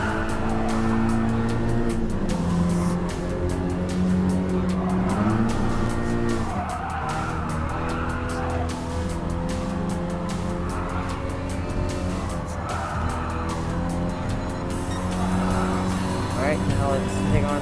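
A hatchback race car in Gran Turismo Sport brakes hard into a corner; a steady engine drone runs throughout with shifting pitch, overlaid by sustained high tire squeal. A voice talks over it.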